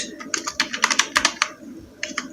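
Keystrokes on a computer keyboard while filling in a document in MS Word, a quick irregular run of crisp close clicks in bursts, with a brief pause before a few final taps.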